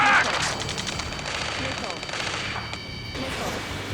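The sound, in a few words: gunfire in the video game Ace Combat 7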